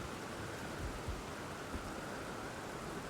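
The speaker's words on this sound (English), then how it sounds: "Dragon Barrow does rain a lot." Steady rain falls in the Dragonbarrow region of Elden Ring, a constant hiss of downpour with a few faint low rumbles underneath.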